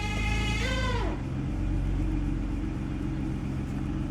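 A 2011 Toyota RAV4 with a failing transmission, a whining tone that sweeps and then drops away, leaving a steady low engine rumble close by, no talking.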